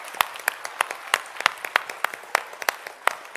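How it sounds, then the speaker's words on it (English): Scattered applause from a small audience at a children's reading and writing event, a sparse run of distinct, irregular hand claps close by, loose in rhythm and moderately loud. "Let's give Jo a big round of applause"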